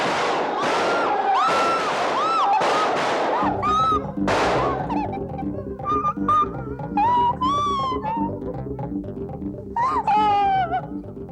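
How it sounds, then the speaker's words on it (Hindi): Gunshots ring out in a scene from the Hindi TV crime drama CID: several sharp, loud bangs come in quick succession at the start, followed by dramatic background music. "और फिर ललित ने भी 2 गोलियां फायर की।"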